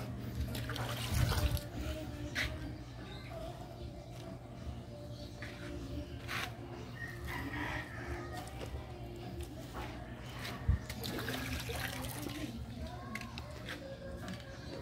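River water pours and splashes steadily onto vegetable plants, including chili peppers, over a low background hum, with a couple of brief knocks, faint and continuous throughout.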